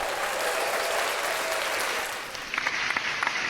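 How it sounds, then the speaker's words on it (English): Loud, dense applause from a crowd fills the whole stretch, steady at first and thinning toward the end into a few distinct sharp claps, played as a sound effect on a podcast. "Loud and obnoxious claps for no reason, right?"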